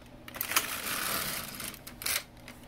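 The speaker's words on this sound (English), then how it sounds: "So what I'm going to do is knit 1 loose row." An LK 150 knitting machine carriage is pushed across for a single row, making a soft, rasping mechanical slide with small clicks, fairly close and without talk.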